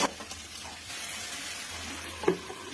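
Karkol, potato and jackfruit seeds with turmeric hiss softly in a pan, with a few light stirring scrapes and one sharper knock near the end.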